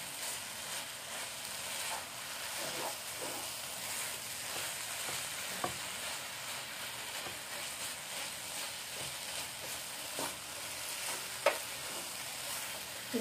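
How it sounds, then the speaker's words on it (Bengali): Carrot halwa with milk and milk powder being stirred in a pan over the gas, giving a steady soft sizzle and scraping throughout with a few small clicks of the spoon. "পাউডার দুধটা দিয়ে আমি আবার একটু ভালো করে এটাকে মিশিয়ে ফেলে দেবো"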